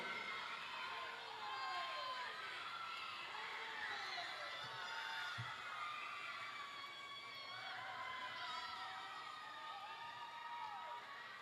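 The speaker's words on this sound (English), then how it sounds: "The louder you cheer, the faster they swim." Spectators cheer and shout at a regional swim meet, with high whoops and children's voices rising and falling continuously alongside an announcer's talk.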